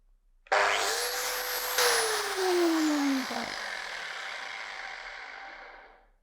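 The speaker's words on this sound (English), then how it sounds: "So let's do a grinding application with our GWS 12-125S" A Bosch GWS 12-125S angle grinder switches on and spins up with a loud, steady high-pitched whine close by, its tone dropping slightly under load before it settles into a sustained drone that eases off at the end.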